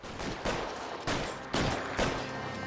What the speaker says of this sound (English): I think I'll go for the Tommy gun this time.